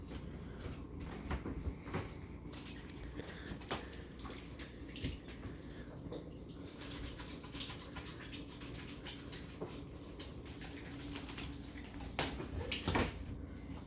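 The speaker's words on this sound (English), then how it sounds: "Let me rinse my hands off again." Hands rinsed under a running kitchen tap while turkey meatloaf is prepared, a steady wash of water with a few light knocks and clunks, close by and without talk.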